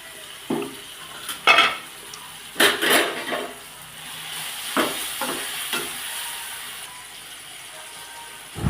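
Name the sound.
sautéing tomatoes and green chillies in a pan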